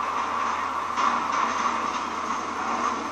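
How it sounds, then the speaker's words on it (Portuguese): Train approaching in the video game GTA V, a steady rumbling and clattering rail noise at moderate level that continues evenly throughout, with no talking. "Então vou esperar aqui outro trem. Pronto, tá vindo."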